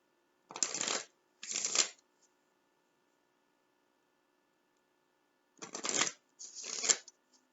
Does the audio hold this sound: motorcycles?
no